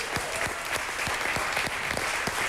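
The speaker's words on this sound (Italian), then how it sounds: "possiamo fare un applauso a Mazzone" Studio audience on an Italian TV football show, covering the final matchday of the 2001-02 Serie A season, applauds Brescia and Mazzone: steady, dense clapping with sharp individual claps standing out, sustained throughout without speech.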